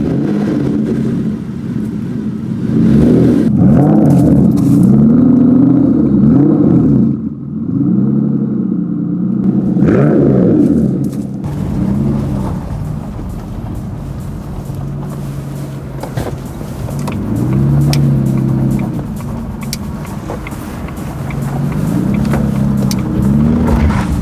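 An Aston Martin Vanquish on the road gives a loud steady engine drone with swelling accelerations and easing throttle, heard from inside the car with wind and road noise.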